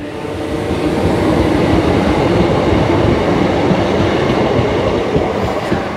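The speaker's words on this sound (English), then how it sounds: "We'll watch this train here" A steam train rumbles steadily through Prescot railway station, a loud continuous clatter of wheels and carriages filling the whole stretch without pause.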